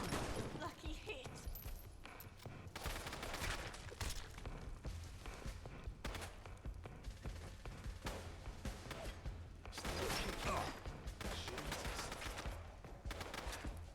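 Sustained gunfire from a firefight in the video game Fallout London, with dense bursts of rapid shots and heavy impacts running almost continuously and loudly, partly under speech.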